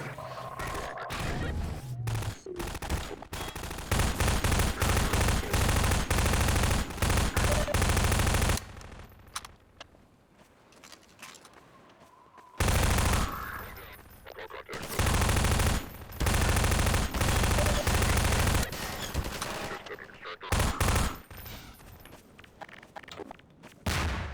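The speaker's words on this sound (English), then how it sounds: "The SMG is kind of useless." Submachine gun fire in the first-person shooter Half-Life 2, long loud sustained automatic bursts with rapid repeated shots, separated by short pauses of quieter ambient game noise and footsteps.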